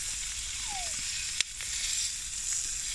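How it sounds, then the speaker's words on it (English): Lamb chops sizzle softly in a pan over an IKEA twig stove outdoors, a faint steady frying hiss with one sharp tick partway through. "Lamb chops on a stick, so I can brown the important parts"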